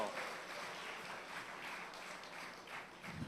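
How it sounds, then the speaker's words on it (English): Audience applause for the National Theatre Arts Company of Trinidad and Tobago, a steady wash of clapping at moderate distance, fairly faint and continuous throughout with no talk over it. "another big round of applause for the National Theatre Arts Company of Trinidad and Tobago"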